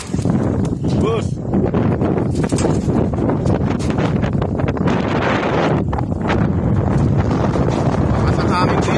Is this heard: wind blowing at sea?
yes